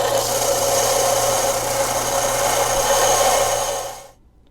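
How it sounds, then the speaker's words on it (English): A belt sander runs steadily and loudly, sanding a part for a 1/25 scale model beach racer, a continuous close grinding whine that cuts off at the end. "So we'll just turn on our belt sander and we will get right to"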